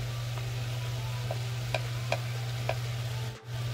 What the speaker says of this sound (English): You want to make sure you scrape the bottoms so you don't have anything sticking.